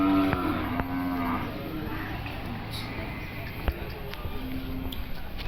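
Cattle low at an open-air livestock market in Sungai Sari, Padang Pariaman, West Sumatra, with a few drawn-out moos rising over a steady background of crowd chatter and market bustle.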